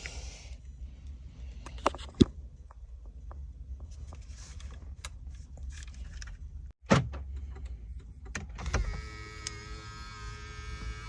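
An electric side mirror on a Porsche Panamera folds with a faulty motor that does not stop, giving a faint whirring hum with scattered clicks and a couple of sharp knocks, the motor drone continuing toward the end.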